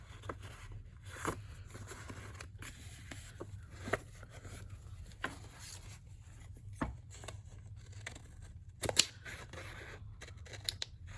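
Scissors snip through paper for a craft envelope, a scattering of sharp cuts, some isolated and some in quick runs, close by over a steady low hum.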